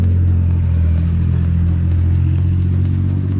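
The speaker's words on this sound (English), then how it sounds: "all of a sudden there's loads of traffic" Steady, loud road traffic rolls past nearby, a continuous engine and tire roar with a low rumble and no voices.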